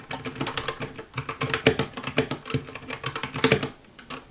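Rapid typing on an RK G68 mechanical keyboard, a dense run of loud, close keystroke clicks and clacks in an uneven rhythm, heard alone.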